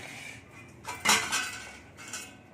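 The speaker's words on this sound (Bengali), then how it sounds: "দেখুন আলুটাকে এবার আমি গ্রেট করে নিচ্ছি" A boiled potato rubbed over a metal grater makes a few soft, close scraping strokes with light metallic rasps and a low steady background, with no voices.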